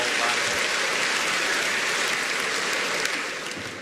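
A comedy club audience claps in steady, dense applause that holds for a few seconds and then begins to fade toward the end.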